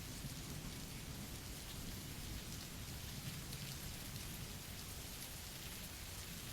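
Steady, dense rainfall pours down without a break, a constant close hiss of drops hitting surfaces, with no voices or other sounds.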